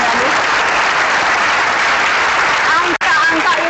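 A studio audience on a talk show gives loud, sustained applause, a dense, even wash of clapping with a few voices audible in the crowd.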